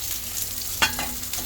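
Food with soaked dried shrimp frying in a pan under a steady sizzle, broken midway by one sharp scrape of a spatula stirring, close and with no speech.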